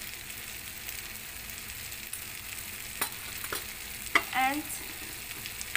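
Spices (turmeric, garam masala, red chili and cumin powder) cook in a hot pan for rajma kidney bean curry, giving a steady close sizzle with a few scraping stirs and brief crackles.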